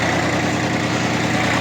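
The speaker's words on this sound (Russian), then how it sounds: "давайте дополнительно посмотрим, как работает у нас фреза на тракторе Yanmar F18D." Small Yanmar F18D Japanese mini tractor with a rotary tiller attached, its diesel engine running at a steady, continuous drone with low mechanical vibration, close and loud throughout with no talk.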